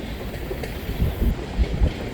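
A freight train rumbles through a small town, its engine throb rising and falling in low pulses under steady wind noise, heard from a distance.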